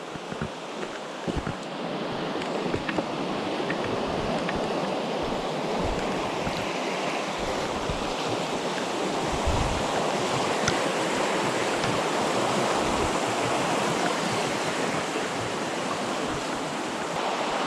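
Loud, continuous roar of river rapids, steady throughout with some wind buffeting the microphone early on.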